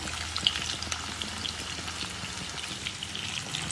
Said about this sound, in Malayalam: അപ്പോൾ ഈ ചിക്കനൊക്കെ നന്നായിട്ട് ഫ്രൈ ആയിട്ടുണ്ട്